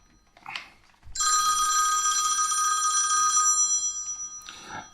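An old-style telephone bell rings loudly in one sustained burst lasting a couple of seconds, with a soft clatter before and after it.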